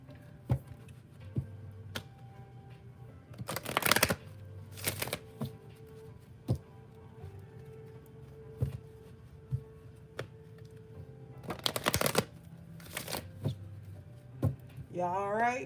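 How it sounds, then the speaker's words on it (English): A deck of tarot cards shuffled during a reading, with several bursts of riffling cards between quieter taps and soft handling clicks, close and clear, and a voice speaking faintly now and then. "I'm going to take it, but I'm still going to shuffle as well"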